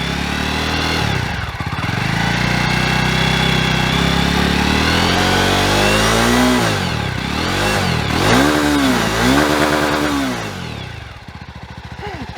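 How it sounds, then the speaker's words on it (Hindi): A 2020 BS6 Jawa 42 motorcycle with dual exhausts idles with a steady close thump, then is blipped several times so the revs rise and fall in quick swells before settling back. "तो इस जावा 42 की आवाज़ कैसी है वो भी आपको सुना देता हूँ, क्योंकि ड्यूअल एग्जॉस्ट इसमें लगे हुए हैं।"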